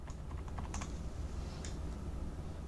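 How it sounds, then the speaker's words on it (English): Someone types a search term on a computer keyboard, a quick close burst of clicking keystrokes followed by a few lighter taps, with no other sounds around them. "we could just type in janitorial."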